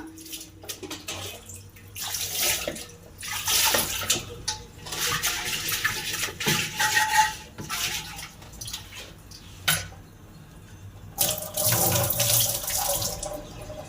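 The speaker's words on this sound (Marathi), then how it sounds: "आणि असा स्वच्छ माठ धुवून झाल्याच्या नंतर" Running water splashes into and over a clay water pot as it is washed, the flow surging and breaking off in irregular bursts with brief pauses, close and fairly loud.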